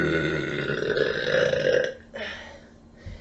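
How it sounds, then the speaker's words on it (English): A woman lets out a long, loud, croaking burp that stretches for almost two seconds, then gives a short second belch and a small final gulp, all close and with no talk over them. "I'm just gonna humiliate you with my superior loud burps all the time"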